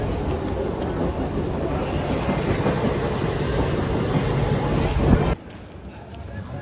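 Passenger train in India running along the rails, a steady loud rumble with rhythmic clickety-clack from the wheels that drops away abruptly near the end, with faint voices mixed in.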